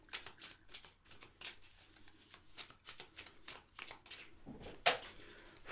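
Tarot cards shuffled by hand in a quiet room, a run of soft riffling bursts and flicks with one sharper slap near the end as cards drop.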